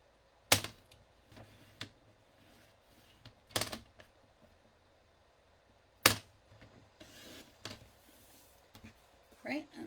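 Cardstock being trimmed to size for a graduation card with a paper trimmer, giving a few sharp, separate cutting snaps spread across a quiet stretch, close and fairly loud.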